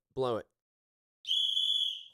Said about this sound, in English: Well, I've got a whistle handy.